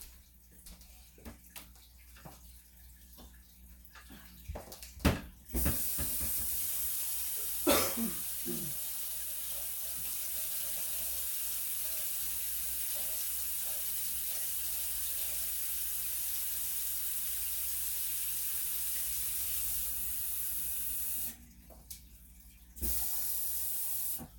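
A water tap runs steadily for most of the stretch, a continuous broad hiss of flowing water that cuts off briefly near the end and then resumes, preceded by a few quiet clicks and handling knocks.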